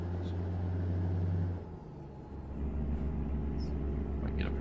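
A truck driving on the road while being passed, with a heavy low engine drone that drops and shifts midway, then returns as a steady rumble with faint high squeaks.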